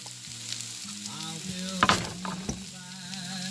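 Garlic, shallots and parsley frying in a pan, a steady sizzle with clatter and stirring scrapes, a couple of sharper bursts midway, no voices.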